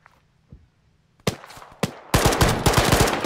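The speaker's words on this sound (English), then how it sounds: "Machine gun, 75 meters." An enemy machine gun fires in a Chernarus combat game, starting with a few isolated shots and then a dense, loud rattle of rapid automatic fire.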